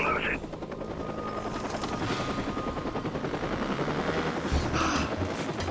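Continuous rapid thumping of helicopter rotors in the video game Watch Dogs, loud and close, with scattered gunfire-like bursts and a voice talking over it.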